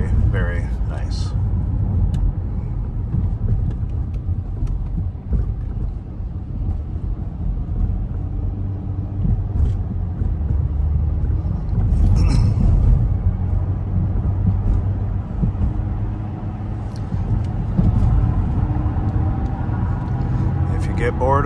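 A 2012 Dodge Grand Caravan SXT rolls along city and freeway roads, its cabin filled with a continuous low road and engine rumble beneath someone talking.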